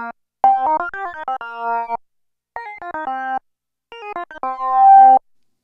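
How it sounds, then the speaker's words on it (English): Lead sync unison preset on an OB-X8 synthesizer with oscillator 2 synced to oscillator 1 and the filter mostly closed, playing a quick monophonic melodic line in three phrases, mellow and nasal, alone with no talking. "It's a unison patch that's got oscillator 2 in sync to oscillator 1, and the filter's fairly closed down."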